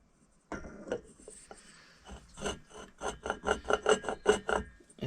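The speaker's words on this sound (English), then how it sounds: "the flywheel's catching the cylinder" A loosely fitted Vespa flywheel catching the cylinder as it turns, giving a series of scraping, rubbing strokes that start sparse and become a quicker, rhythmic grinding near the end.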